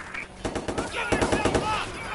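Rapid bursts of video game gunfire from Watch Dogs crackle in quick, repeated volleys at close range, mixed with some voices.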